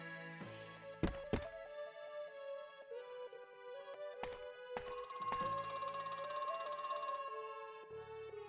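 An old-style telephone bell rings in bursts inside the horror video game Crow Country, set against a droning game soundscape with a few sharp thuds between rings.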